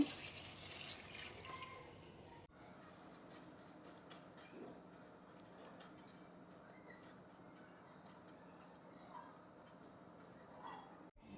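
Water pours and drips into a bowl of puffed rice nearby, soft trickling and patter with a few faint clinks throughout.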